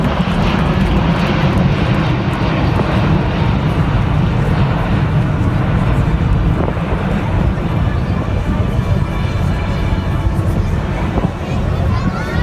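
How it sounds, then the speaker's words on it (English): An Airbus A380 jet airliner performing a flying display at the Paris Air Show, its engines a loud, continuous deep roar throughout, with faint crowd murmur underneath. "Speaking of the Airbus A380, let's see what this beast can do with an experienced crew at the Paris Air Show."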